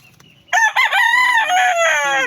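A fighting rooster crows once loudly and close by, a long strained call after a brief quiet moment.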